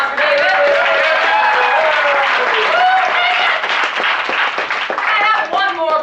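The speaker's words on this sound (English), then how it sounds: "please give a big round of applause for David" An audience claps loudly and steadily for a volunteer at a live show. The applause is close and dense, with cheering voices over it and a voice among them, holding strong throughout.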